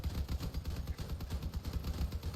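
Rapid automatic gunfire from a vehicle-mounted central machine gun in the Crossout vehicle combat game, a dense steady stream of shots running the whole time, moderately loud with no talk.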